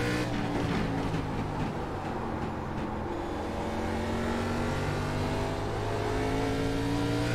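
A race car in the iRacing sim game spins coming off a turn, its engine droning steadily and loudly throughout with a continuous revving tone and no talk.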